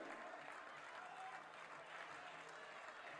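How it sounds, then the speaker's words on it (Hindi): Steady applause from a large crowd welcoming Prime Minister Narendra Modi at an election public meeting in Dwarka, New Delhi, a continuous wash of clapping that holds at an even level for the whole stretch. "जोरदार तालियों के साथ स्वागत।"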